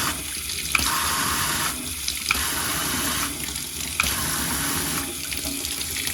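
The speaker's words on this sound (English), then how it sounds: "I'm going to push this button and cycle to the shower feature" Kitchen faucet pull-out sprayer running in shower mode, a loud, steady spray of water hissing into the sink for several seconds, with a few faint clicks as the button is pressed.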